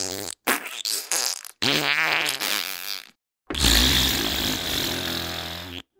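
A voice imitates a squelching fart noise in several buzzy, sputtering bursts separated by short pauses, with a long loud final blast, close and alone.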